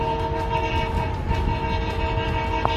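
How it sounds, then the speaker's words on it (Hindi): A freight train on the rail line near Indore sounds a long, sustained horn, a steady loud blast with strong tonal layers over rumbling engine and wheel noise, no voices. "उसने पहले एक लंबा हॉर्न दिया।"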